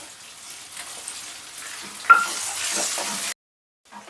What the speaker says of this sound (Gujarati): ધીરા તાપે તમારા ડુંગળીને સાતરી લેવી થોડી સતરાઈ જાય